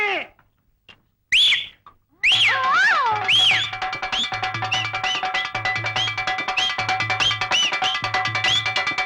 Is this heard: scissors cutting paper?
no